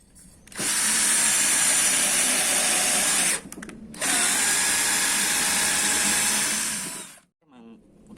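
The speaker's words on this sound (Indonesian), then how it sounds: "kita tes aja untuk pengeboran kayu" A Ryu RCD 12V cordless drill in drill mode bores into wood with a 7 mm bit, two loud sustained whining bursts separated by a brief pause, then stopping.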